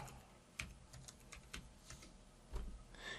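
Quiet, steady computer keyboard typing of a command, with irregular soft key clicks and a few sharper taps, with no talking.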